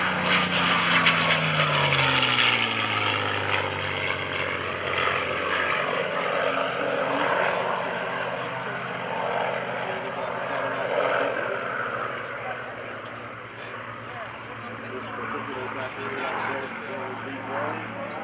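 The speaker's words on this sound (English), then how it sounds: "This P-51 is a combat veteran, flown during the Italian campaigns in World War II." A North American P-51D Mustang, a World War II fighter of about 1,500 horsepower, roars past at an air show with a throbbing piston engine and propeller drone that sweeps in pitch and gradually fades, while an announcer talks over it.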